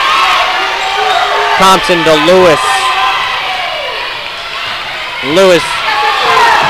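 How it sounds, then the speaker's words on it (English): A loud crowd roars from both sides of the gym at a girls' basketball game, a steady wash of cheering under a commentator's play-by-play call. "the crowd is really loud from both sides"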